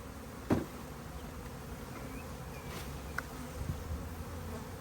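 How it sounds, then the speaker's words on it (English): Bees buzzing around and inside an open hive box, a steady close hum with an occasional louder knock or tap against the wood, and no voices. "Inside the box, we've still got some bees, you can see."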